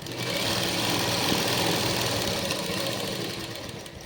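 Sewing machine running steadily while stitching the legs of a Punjabi dress, a continuous dense mechanical whir close by that eases off near the end, with no talking.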